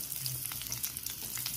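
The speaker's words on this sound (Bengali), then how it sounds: "তেলটা গরম হয়ে গেছে, এর মধ্যে কাঁচা লঙ্কাগুলো, রসুনের খোয়াটা, পেঁয়াজটা দিয়ে দেব।" Green chillies, garlic and onion frying in hot oil, a steady close sizzle with small crackles and pops running throughout, with no voices.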